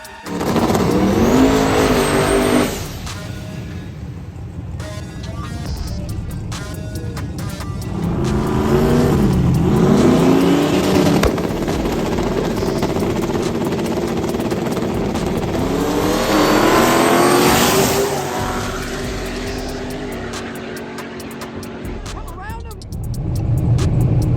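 Drag race cars roar down the strip at a street race in Mexico. Loud engines rise and fall as the cars launch and rev hard, with a crowd shouting underneath.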